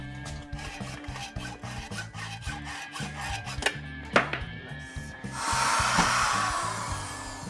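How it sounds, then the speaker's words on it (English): A fine-toothed metal saw rasps back and forth in steady, rhythmic strokes close by, cutting a shovel, ending in a brighter, harsher grinding. "would you rather use a good fine tooth saw that's good for metal?"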